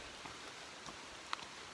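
Rain falling outdoors on the Appalachian Trail, a faint, steady hiss of drops with a few soft patters, heard alone without voices.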